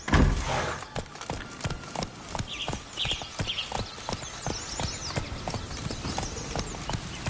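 Roach the horse gallops in The Witcher 3, steady hoofbeats clip-clopping in a quick regular rhythm over soft ambient music, close and clear, with a brief snort near the start.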